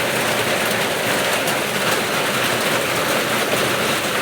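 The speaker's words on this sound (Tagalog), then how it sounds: "Ulan guys, kaya maingay, may patak ng patak na ulan sa bubong." Steady, dense rain patters on a roof, a constant hissing wash of drops close by, without pauses or voices.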